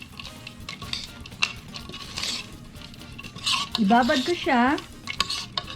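A spoon stirs dried mixed fruits soaked in rum, making soft, repeated scraping and clinking against the bowl, and a voice speaks briefly near the end.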